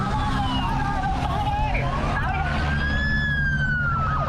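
A wailing ambulance siren sweeps up and down steadily, loud and fairly close, continuous over traffic rumble.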